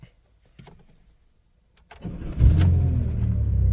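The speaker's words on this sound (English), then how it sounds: "Cold start on the 93 Dodge Caravan." A 1993 Dodge Caravan cold-starts: a few faint clicks, a brief cranking, then the engine catches and settles into a loud, steady idle close by.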